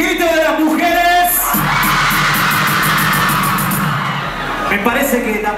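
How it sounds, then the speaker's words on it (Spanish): A concert crowd at a reggaeton festival in Argentina, with women screaming and cheering loudly in a sustained, dense roar that swells after a short introduction. Someone speaks over it at the start. "¡Y el grito de las mujeres!"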